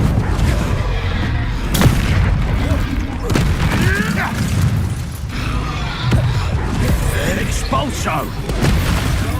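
Repeated blasting-spell explosions from a Confringo-filled Hogwarts Legacy duel sound as loud, low booms and crackles inside a busy, continuous battle mix, with voices shouting over it.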